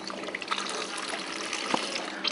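Water poured from a container into croissant dough ingredients, 250 grams of water added to salt and yeast, a steady trickling stream with a brief splash near the end, close and alone.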